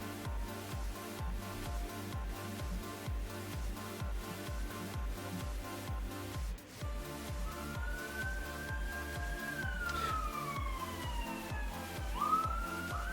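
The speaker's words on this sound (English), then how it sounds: "Please ignore the sirens." Sirens wail outside over steady rhythmic background music, a rising and falling tone swelling in the second half, moderately loud but partly buried.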